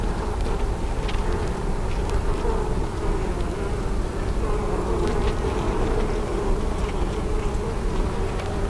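Dense, continuous buzzing of honeybees and drones swarming around an open hive frame, loud and close, with a few faint knocks and rustles underneath.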